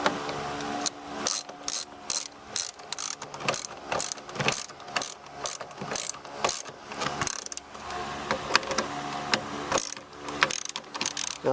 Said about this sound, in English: now we can take our wrench and tighten up all the sockets again